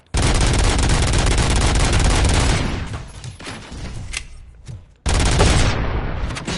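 Full-auto gunfire from RoboCop: Rogue City roars in a dense, loud stream, thins out briefly, then slams back in at full intensity.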